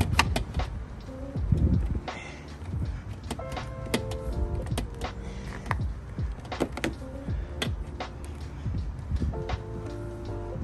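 Plastic front grille on a BMW 435i being lined up and snapped into place, with repeated close clicks, rattles and small knocks from handling the parts against a steady low background hum.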